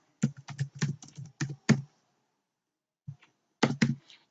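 Bursts of typing on a computer keyboard while entering data into a Visual Studio application linked to MySQL: quick clusters of close key clicks, a pause of about a second, then a final short flurry.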